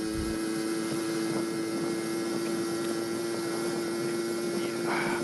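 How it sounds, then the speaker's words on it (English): A 1980 Honda Express moped engine running steadily, a close, droning whine with a strong constant tone that holds level throughout without revving. "And I know the Express kind of has that wind-uppy sound."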